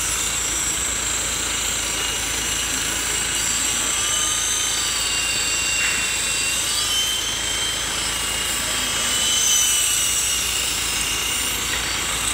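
Small single-rotor RAH-66 Comanche remote control helicopter on a 2.4GHz radio, flying outdoors with a steady high-pitched motor whine and buzzing rotor that holds throughout, swelling slightly near the end.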